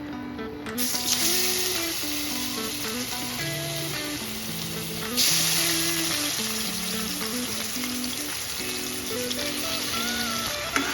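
Paneer sizzles in white oil with salt and turmeric in a wok, a steady loud frying crackle beneath background music, with no talk.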